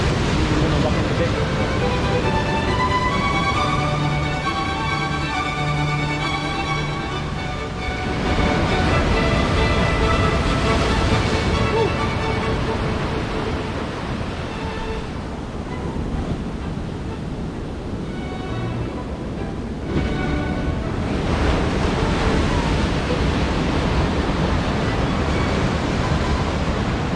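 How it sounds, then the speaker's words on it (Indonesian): Big ocean waves roll onto a beach in Padang, a loud, continuous roar of surf with surges and fading crashes, close and broad, with people talking over it. "Ini ombaknya gede."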